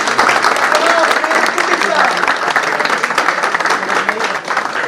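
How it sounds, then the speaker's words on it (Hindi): Audience applause at an event for a guest from Dera Ismail Khan, loud continuous clapping from a crowd with some voices mixed in underneath. "साहब से डेरा इस्माइल खान, उनके लिए बहुत सारी तालियां"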